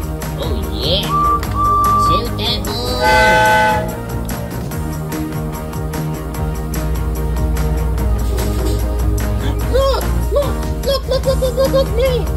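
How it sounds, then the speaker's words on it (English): A freight train passes near a Camden line commuter rail platform, making a loud, continuous rumble and rattle with squealing tones and a brief horn-like blast, while people talk faintly underneath. "Freight train, passing through."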